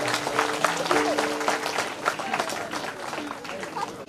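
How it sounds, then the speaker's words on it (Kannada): Applause from a crowd at a stage performance of a goddess Puranic festival in Shirahatti, Kannada, clapping loudly and steadily throughout with background talk and music tones underneath. "ಆ ತಾಯಿಗೂ ಜೋರಾಗಿ ಚಪ್ಪಾಳೆ"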